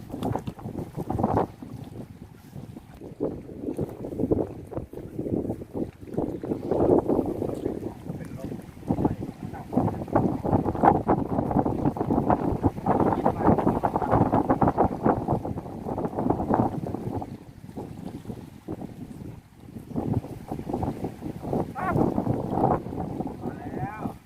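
Strong wind buffets the microphone at a natural seaside fishing pond in Samut Sakhon, Thailand, with loud, continuous gusty rumbling that swells and eases throughout and faint voices now and then.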